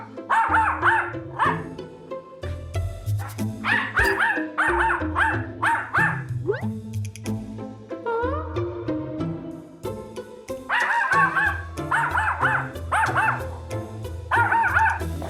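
An aggressive house dog barks loudly and repeatedly indoors, with bursts of sharp barks and yips broken by brief pauses and a whimpering whine, close and insistent throughout.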